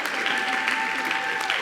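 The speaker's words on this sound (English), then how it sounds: "Let's get another round of applause." Steady, dense audience applause at an awards show, loud and close throughout with a faint sustained tone beneath the clapping.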